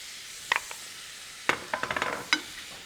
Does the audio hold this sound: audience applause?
no